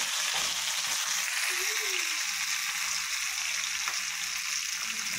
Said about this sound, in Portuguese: Deixa eu dar uma mexidinha na carninha.